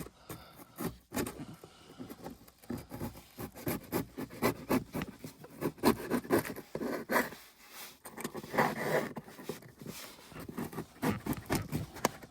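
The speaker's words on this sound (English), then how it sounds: "I'm just grabbing the knife, getting under the edge, and it's, you know, peeling up pretty nice." A knife blade scrapes and rasps as it lifts the old covering off a car dashboard being repaired, giving steady close-up rubbing and scraping strokes with a rough, irregular rhythm and no talking.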